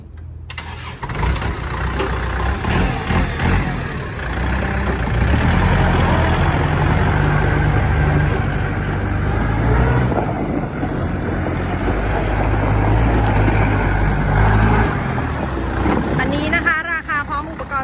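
Kubota L4708 tractor diesel engine cranks, catches and settles into a loud, steady running rumble up close, with a brief rise in revs near the end.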